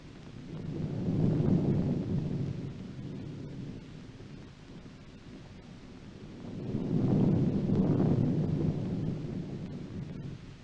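Stormy weather with thunder rolling in two long, deep swells, each building and fading over a few seconds amid a low windy rumble, with no voices.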